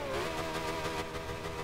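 A McLaren P1 supercar revs steadily in Forza Horizon 2, a continuous mid-pitched engine drone with a slight rise in intensity, loud and close, with no talk over it.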